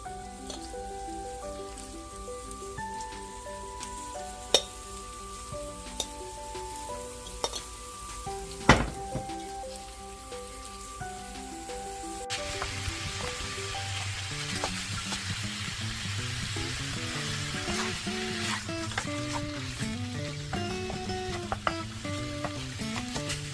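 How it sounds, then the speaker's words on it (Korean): Gochujang-marinated pork hind leg bulgogi stir-frying in a pan, a steady sizzle that swells louder partway through as the pan heats, with occasional utensil knocks and stirring scrapes, close and continuous, without talk. "이 고기 자체에서 볶아주다 보면 수분이 날아가고 이제 기름이 몸에서 나와요"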